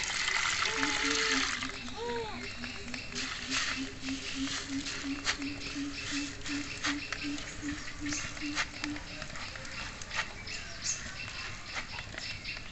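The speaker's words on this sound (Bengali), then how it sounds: "এই মুড়িগুলো আমি এখন ভিজিয়ে নিচ্ছি" Puffed rice (muri) soaks in water for a quick egg breakfast: a steady wet pattering and trickling runs throughout, close and fairly loud, with a voice heard over it.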